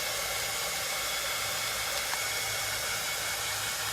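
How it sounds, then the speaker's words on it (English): A craft heat tool blows steadily to dry a home decor project, a continuous loud broadband whoosh with no pauses and no talking. "I'm going to grab my heat tool, and I'm just going to get this all"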